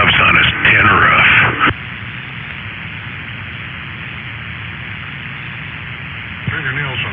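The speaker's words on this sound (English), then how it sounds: "that white noise is almost as soothing as raindrops on a tin roof." White noise hisses from a radio, a flat steady static that runs alone after a voice speaks over it at the start, with talking returning near the end.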